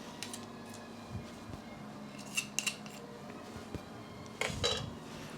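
A spoon scraping the last of a butter cake batter from a bowl, with scattered light clinks and scrapes against the bowl, a few sharper strokes near the end, close and fairly quiet.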